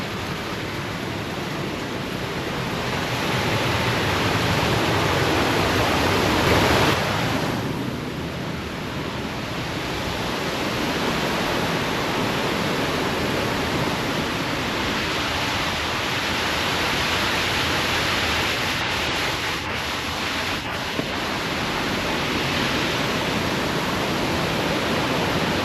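Steady, dense rush of water flowing into a water wheel at the Skradinski Buk waterfalls in Krka National Park, a constant broadband roar with no pauses.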